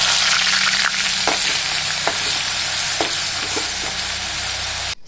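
Chopped onion goes into hot oil already sizzling with cumin seeds and red chilies, a loud, continuous close frying hiss with a few sharp crackles and stirring scrapes, no talk.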